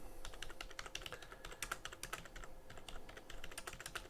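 Rapid, continuous typing on a computer keyboard while entering a short SMS reminder message, with dense, irregular key clicks that sound close and fairly quiet, and no voices.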